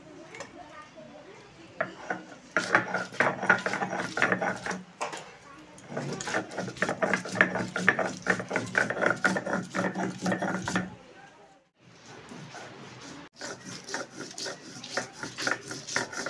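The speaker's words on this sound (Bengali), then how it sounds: "সর্ষের মধ্যে একটু নুন নিলাম। আমি এখন এটা বেটে নিচ্ছি।" Mustard seeds and salt ground on a grinding stone make a rough, rhythmic rubbing and scraping, loud and close, running in long strokes with one short pause in the middle.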